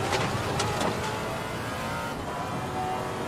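Engine of a Maserati GT4 race car in Assetto Corsa Competizione at Brands Hatch, a loud sustained roar with shifting revs, heard up close and alone.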